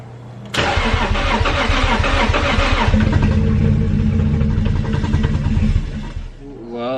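A car engine with a modified 1JZ fuel rail cranks briefly, then catches and runs roughly at a loud, close idle for several seconds before cutting off, with a voice speaking near the end.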